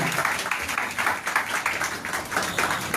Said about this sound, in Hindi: मंत्री जी का जोरदार तालियां बजाए